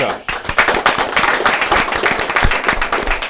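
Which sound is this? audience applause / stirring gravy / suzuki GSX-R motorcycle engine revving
audience applause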